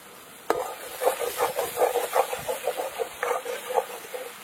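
Masala paste with coconut milk is sautéed for egg malai curry, a spoon scraping and stirring in rhythmic strokes against the pan over a soft sizzle, close by.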